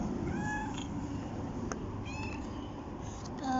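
A domestic cat meows several times at close range, short tonal calls scattered across a few seconds over steady low room noise, with a louder, longer call at the end.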